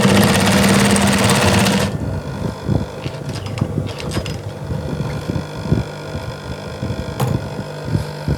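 Sewing machine top stitching a fabric travel bag, a loud whirring hum at first, then a quieter rhythmic throbbing chatter of the needle with small clicks and handling noises, close up.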